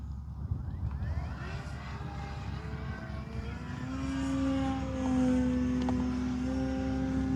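A radio-controlled model Harrier jet flies overhead, its steady whine rising into a sustained tone that grows louder and nearer through the stretch, with outdoor wind noise beneath.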